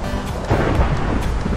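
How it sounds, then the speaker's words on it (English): Steady broadband rain hiss in the video game Minecraft, continuous and fairly loud throughout with low rumbling underneath, no talking. "Why is it raining?"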